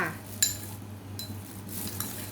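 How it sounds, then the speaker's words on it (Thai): A utensil stirs fermented fish sauce into a jackfruit curry in a pot, giving a few sharp metallic clinks against the pot over a soft swishing stir, close by, with a faint bubbling under it. "ประมาณ 3-4 ช้อนโต๊ะนะ แล้วก็คนให้เข้ากันเลย"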